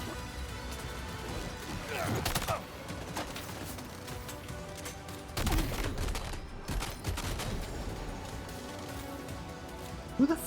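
Gunfire aimed at the player in GTA 4, heard as several loud cracking bursts around two and five and a half seconds over game ambience, with a further sharp shot at the end.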